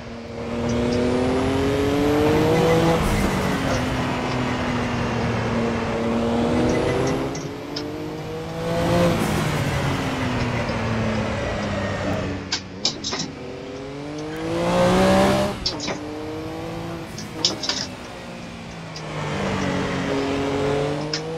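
In Assetto Corsa, a car held in a low gear revs hard as its wheels spin up, the engine note surging and falling in repeated swells with a few sharp bursts, close and alone.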